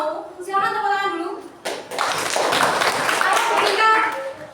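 A class claps hands together in a lesson after a teacher's prompt, a loud burst of many hands beginning suddenly partway in and continuing as a dense, near patter, with a voice speaking before and over it.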